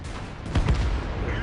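An IS-6 tank cannon fires in World of Tanks, a single heavy, close blast with a sharp crack and rolling echo over a low steady rumble.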